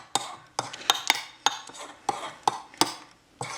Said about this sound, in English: Just mix it like you've never mixed it before, anything in your life before.